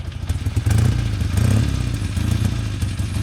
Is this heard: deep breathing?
no